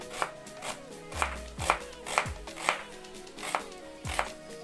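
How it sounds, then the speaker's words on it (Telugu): Knife chopping onions on a cutting board, roughly ten sharp, evenly spaced thuds at a steady rhythm, close and clear, with no voices. "ఉల్లిపాయలను అయితే మనం చక్కగా ముక్కల్లా కట్ చేసుకుందామండి"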